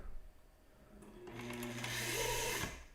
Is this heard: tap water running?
no